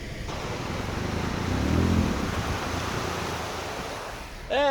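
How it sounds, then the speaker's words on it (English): Small waterfalls on a mountain farm in Transylvania, Romania, give a steady, close rush of falling water that swells slightly midway, with a brief tonal sound at the very end. "they have some tiny nice waterfalls"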